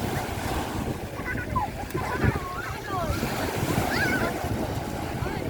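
Ocean waves wash steadily onto a Manila Bay shoreline with constant surf roar and wind buffeting the microphone, while distant voices are faintly heard underneath.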